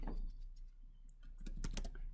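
Keys on a computer keyboard are tapped in short, irregular bursts while entering search terms into SAP software. The clicks are close and moderately quiet, over a faint room hum, with no talking.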